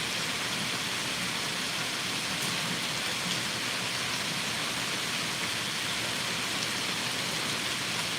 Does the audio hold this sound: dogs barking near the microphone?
no